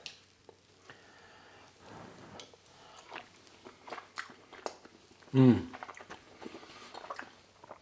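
Soft wet chewing and biting of gnocchi with mushroom and spinach sauce, close and quiet, with irregular mouth sounds and a brief louder vocal hum midway.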